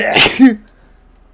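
A single sharp sneeze bursts out close to the microphone during a session of the Call of Duty video game, followed by brief quiet.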